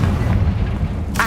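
A Confringo blasting spell explodes in the Hogwarts Legacy video game, a loud booming blast with a low rumbling body and a sharp crackling burst near the end, with no talk.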